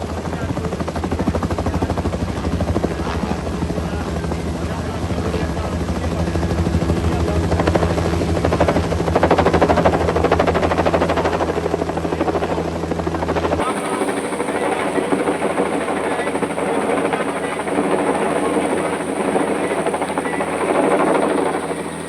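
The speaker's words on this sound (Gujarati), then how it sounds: "હેલિકોપ્ટર દ્વારા વિશ્વામિત્રી નદી પર પુષ્પવર્ષા થકી વધામણા કરાતા" A helicopter's loud, steady rotor drone fills the air over the Vishwamitri River in Vadodara, close and continuous, then shifts abruptly to a thinner, slightly quieter roar partway through.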